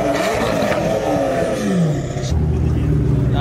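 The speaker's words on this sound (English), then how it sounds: "You want to hear a real McLaren?" A McLaren Senna hypercar with carbon bodywork roars nearby, the engine rising and falling in pitch before settling into a deep idle rumble, with people talking over it.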